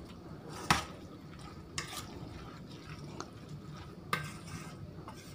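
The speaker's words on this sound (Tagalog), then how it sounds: "Haluin mabuti." Spoon stirring a food mixture in a pot, with a soft wet churning bed broken by several sharp knocks and scrapes against the pot, spaced irregularly.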